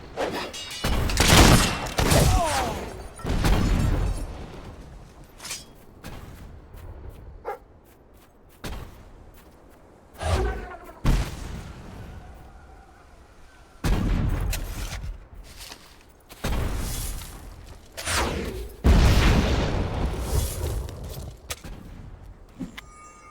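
Bursts of gunfire in the video game Fable 3, irregular sharp volleys separated by quieter gaps, moderately loud with some background game sounds between shots.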